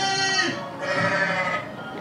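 In the Goat Simulator video game, a goat lets out a loud, close, wavering bleat in two drawn-out pulses.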